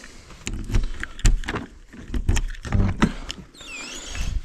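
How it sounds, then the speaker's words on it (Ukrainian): The door of a camper cabin is handled in freezing weather with a series of clunks, rattles and latch knocks, close by, ending with a faint high squeak or whine. "Тепер можна відчиняти двері."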